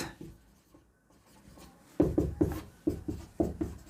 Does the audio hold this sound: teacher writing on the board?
yes